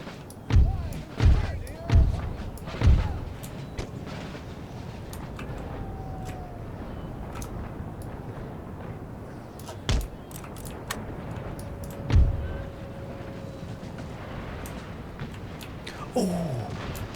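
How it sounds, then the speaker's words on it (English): Artillery fire in the Empire Total War strategy game: several heavy, booming thuds in quick succession at the start, then scattered single blasts over a steady battlefield rumble, with a couple of whistling tones drifting across. "Look at the artillery they've got."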